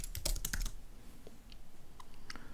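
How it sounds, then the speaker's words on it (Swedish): Fast typing on a computer keyboard as a name is entered, with a quick burst of clustered key clicks followed by a few sparser, fainter taps, close and without talk. "i rutan här uppe börjar jag skriva namnet på den som ska hjälpa mig med undertextningen"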